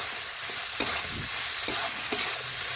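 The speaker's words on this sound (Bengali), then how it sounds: "এইভাবে আমি আবার একটু নাড়াচাড়া করে কষে নিলাম" Spatula stirring ingredients in a pan for chhyachra, a Bengali mixed-vegetable dish, over a steady background sizzle with a few sharp scraping knocks; close and moderately loud, no voices.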